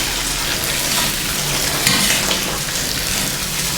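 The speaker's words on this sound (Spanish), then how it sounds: "vamos a abrir ese ángulo de ese llave completo y vamos a empezar a mezclar" Golden Ale beer mash being stirred with a paddle in a 50-litre batch while water runs from an open valve, a continuous watery sloshing and rushing with a few louder swirls.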